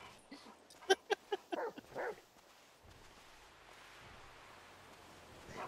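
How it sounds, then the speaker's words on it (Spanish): Two dogs in GTA V bark in a quick run of sharp yips and whimpers over about two seconds, fairly close, before fading into a low background hum. "Hay dos perros"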